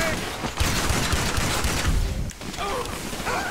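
Rapid, dense gunfire from weapons being tested in the video game GTA 5 rattles continuously for several seconds, loud and close, with a game character's voice faintly underneath.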